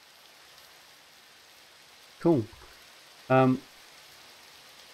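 Steady, faint rain patters in Minecraft, a soft continuous hiss of falling drops in the background while a voice speaks briefly twice.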